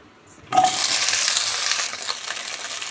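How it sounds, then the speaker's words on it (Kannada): After a brief quiet moment, okra hits a teaspoon of hot oil in a pan with a sudden loud sizzle that settles into a steady frying hiss. "ಬಾಣಲೆಯಲ್ಲಿ ಒಂದು ಟೀ ಸ್ಪೂನು ಆಯಿಲ್ ಬಿಸಿ ಹಾಕಿದ್ದು ಬೆಂಡೆಕಾಯಿ ಒಂದು ಫ್ರೈ ಹಾಕೋಣ"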